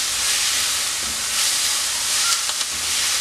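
Onions and curry leaves sauté in a pan, giving a loud, continuous, close-up hiss with a few faint clinks and no voices.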